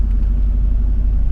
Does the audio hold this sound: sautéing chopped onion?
no